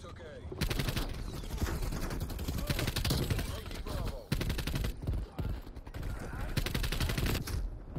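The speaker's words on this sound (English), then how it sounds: "All right, time to use the pistol." Pistol fire on the Nuketown 84 Holiday map in Call of Duty Black Ops: rapid, close, loud shots fired in long runs, broken by short pauses, with someone talking over them.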